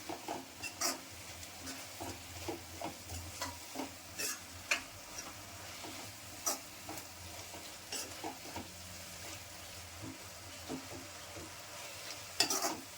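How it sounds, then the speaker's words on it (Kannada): Food frying in oil in a pan is stirred over and over, with quick scrapes and clinks of the spoon against the pan over a steady soft sizzle, close and fairly quiet; no one speaks. "ಚೆನ್ನಾಗಿ ಕೈ ಆಡಿಸ್ತಾ ಇರಬೇಕು ಫ್ರೆಂಡ್ಸ್, ಇಲ್ಲಾಂದ್ರೆ ತಳ ಹಿಡಿದ್ಬಿಡುತ್ತೆ"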